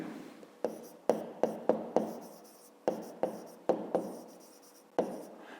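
Pen strokes scratch across paper as a math answer is written out by hand, a series of a dozen or so sharp, close taps and scrapes in an uneven rhythm, quiet but distinct against near silence.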